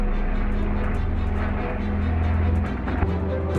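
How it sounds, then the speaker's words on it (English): A twin-engine German Messerschmitt WWII fighter plane drones steadily and loudly, its deep engine roar holding throughout with a slight dip near the end. "The Messerschmitt, one of the most lethal German fighter planes of the Second World War."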